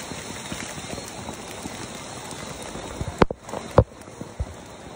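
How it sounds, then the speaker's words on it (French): Steady rain patters on a surface at night, a dense even hiss close by, with a couple of sharp knocks near the end and no talk. "Ah, il pleut!"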